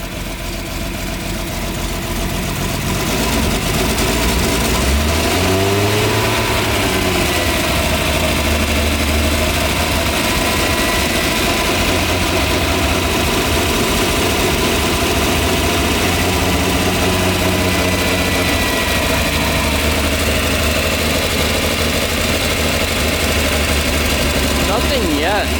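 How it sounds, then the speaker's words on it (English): A Nissan GTR engine revs up from idle and settles back, a loud, steady mechanical drone with rising and falling pitch sweeps, heard close by in a shop with no talk over it. "Let's give it a little rev."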